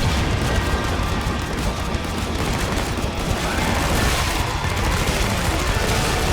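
Sustained automatic gunfire pours into a crowd of enemies in Killing Floor 2, a dense, continuous rattle of shots mixed with impacts, loud and unbroken for several seconds.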